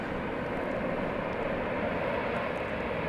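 A Boeing 787-9 airliner on the flight to Auckland roars steadily at DFW Airport at night, a loud, continuous jet rumble with no talking.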